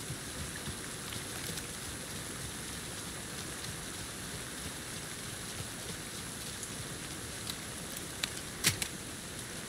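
Steady rain falls evenly in the video game Alan Wake 2, a dense hiss of drops in the middle of a street with a couple of brief sharp clicks near the end; no one speaks.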